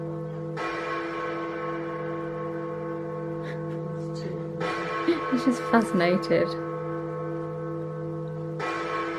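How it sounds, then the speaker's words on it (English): Big Ben's bell bonging from a video playing in a room, long sustained tolling tones with a deep hum that swell in three separate strokes, while nearby voices talk quietly over part of it. "Trying to find videos of Big Ben bonging where you can actually see the bell."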